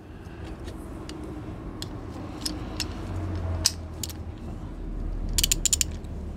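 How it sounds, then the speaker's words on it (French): Ratchet with a filter wrench working loose the oil filter on a Renault Twingo 1.2 16V, giving soft clicking and metallic ticks over a low steady background, with a brighter burst of clicks near the end. "Hop, avec le cliquet en mode dévissage."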